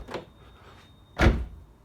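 Door glass on a Subaru WRX STi being closed, with a soft thump early on and then a louder, fuller thud of the glass or door seating, close and otherwise quiet.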